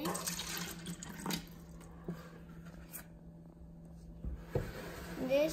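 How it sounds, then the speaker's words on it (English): Bottled water is poured into a cup indoors, giving a soft, uneven trickle and splash with small clinks and handling noises, fairly quiet throughout. "Let's pour some water in."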